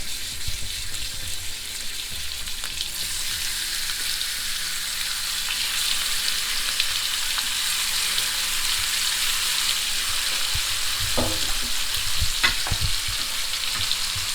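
Masala lamb chops fry in oil in a pan with a steady, close sizzle throughout, joined by a few brief clinks and stirring knocks toward the end.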